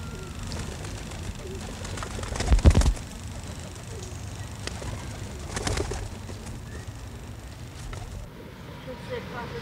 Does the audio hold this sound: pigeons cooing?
yes